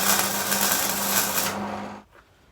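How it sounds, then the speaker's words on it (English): A spot welder works on a steel cowling for an aircraft build, giving about two seconds of loud, continuous crackling buzz up close before it cuts off abruptly into quiet. "I'm going to put a spot weld here, a spot weld here"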